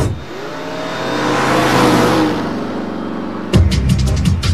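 A customized Honda Civic engine revs loudly, rising and swelling for a couple of seconds before a sharper burst of revving near the end, close and with no talk.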